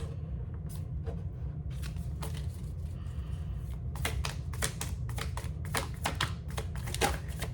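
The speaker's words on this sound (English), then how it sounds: "All right, pull some oracle cards." Oracle cards being shuffled and drawn in a quiet room, a run of close, crisp riffling and flicking bursts over a steady low background rumble, with no talking.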